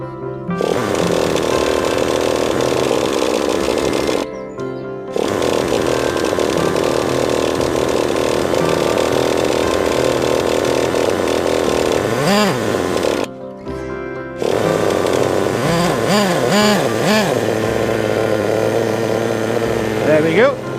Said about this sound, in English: we're going to go and start the truck up and try and get it to go as fast as we can